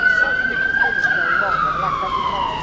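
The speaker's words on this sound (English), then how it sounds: "Oh, it's an ambulance." An ambulance siren wails loudly on a street during a protest, its single tone sliding gradually downward as the vehicle passes, with crowd noise underneath.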